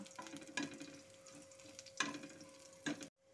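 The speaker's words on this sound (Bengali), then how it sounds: "এগুলোকে ভালো মতো একটু ভেজে নেব" Spices and garlic fry gently in hot oil as a tempering for a Bengali suji kochu bhorta, a soft, faint sizzle broken by three sharp scrapes of a spoon stirring in the pan, ending abruptly.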